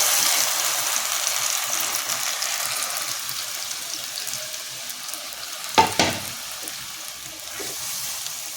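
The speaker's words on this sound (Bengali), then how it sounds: "তেলটা গরম হয়ে গেছে বন্ধুরা, এই যে আমি আনারসটা এর মধ্যে দিয়ে দিলাম।" Pineapple frying in hot oil for a chutney, a steady broadband sizzle throughout, with a brief louder burst of crackling and splatter partway through before settling back to an even fry.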